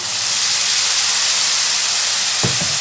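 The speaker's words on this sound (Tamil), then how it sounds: "இது நல்லா வதக்கி கொடுக்கலாம்" Ground tomato paste from four medium tomatoes sautéing in a hot pan gives a steady, loud broadband sizzle and hiss that runs unbroken, with a brief stirring clatter near the end.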